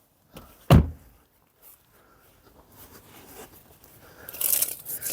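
A car door on a Dacia Duster 3 shuts with a single solid, close thunk, followed by quieter rustling and shuffling and a brief hissy scrape near the end.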